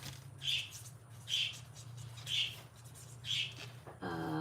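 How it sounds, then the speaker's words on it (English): Several bright bird chirps recur at a steady pace outdoors, about once a second, distinct over a low steady hum before a voice starts at the end. "Boy, the birds are really jacked up out there."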